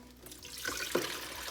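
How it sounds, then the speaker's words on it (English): Tap water runs into a coffee pot in a brief, soft splashing stream at close range in a quiet kitchen. "Let me just get some water going"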